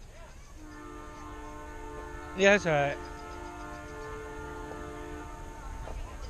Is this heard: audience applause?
no